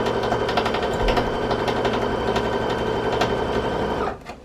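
A sewing machine runs a quarter-inch quilt seam with a presser foot and guide, a steady fast mechanical whirring and rapid needle chatter held for several seconds before stopping abruptly.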